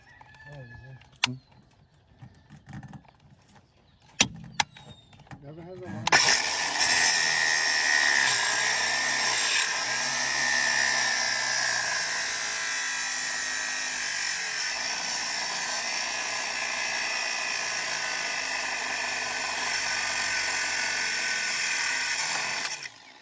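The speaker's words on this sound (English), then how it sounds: "I'm gonna just take a angle grinder with a cutoff wheel and cut off the old broken terminal" An angle grinder fitted with a cutoff wheel cuts off an old, broken car battery terminal. A few quiet clicks and handling knocks come first, then a loud, steady, close grinding whine that runs to the end.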